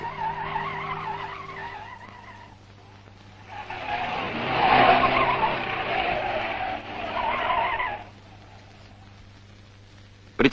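A Moskvich car skids during a brake test, its tires squealing loudly for several seconds under steady engine noise before cutting off abruptly.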